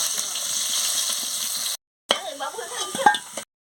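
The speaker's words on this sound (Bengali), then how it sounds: "পরিমাণ মতন একটু নুন দিয়ে দিচ্ছি ভালো করে আলুটাকে লাল লাল করে ভেজে নিচ্ছি" Potatoes frying in oil in a pan as salt is added for a mutton curry, a steady sizzle that breaks off briefly, then returns with stirring scrapes and clinks.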